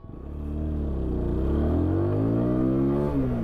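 A TVS Apache RTR 160 4V motorcycle (159.7 cc, 16.2 bhp) accelerating hard in a 100-meter power test, its engine note rising steadily through the gears, loud and close for several seconds.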